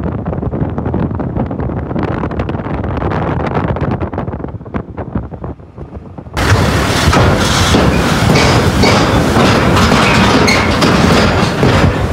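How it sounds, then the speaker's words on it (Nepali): A vehicle on the road from Devghat to Muktinath gives a heavy, train-like rumble; partway through the steady roar turns abruptly brighter and windier, continuing loud to the end. "ठ्याक्कै रेलको जस्तो आवाज आयो"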